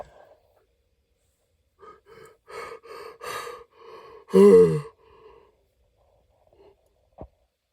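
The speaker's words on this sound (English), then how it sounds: "my yawns are not because I'm tired" A person yawns close up, with a series of breathy, drawn-out inhales and sighs that build to one louder voiced yawn, then fade to quiet breaths.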